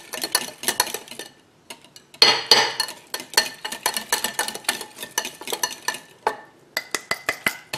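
Homemade hair mask stirred in a bowl, a close, rhythmic series of sharp clinking taps and scrapes of a utensil against the container, dense and irregular, with brief pauses and no voices.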